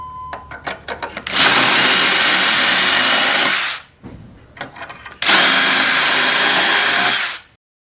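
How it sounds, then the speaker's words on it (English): A power drill bores holes through a cabinet hardware jig guide, starting with a few short trigger blips, then two long, loud whining runs separated by a brief pause. "I'm going to drill through these 2 guides"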